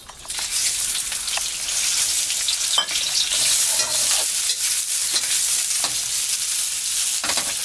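Onions sizzle and fry in a generous amount of hot oil in a pan, a steady, dense crackle that holds loud and close throughout, with a few sharper pops and spits along the way.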